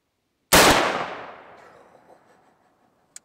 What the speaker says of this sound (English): I thought that the SCAR would definitely be able to shoot through that thing.